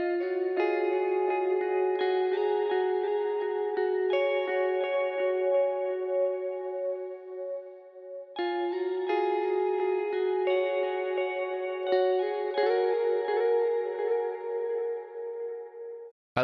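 Electric guitar plays a second lead melody through echo, reverb and chorus effects over an ambient lo-fi beat, sustained notes ringing out in two long phrases with a brief dip at the midpoint, steady and upfront with no talking.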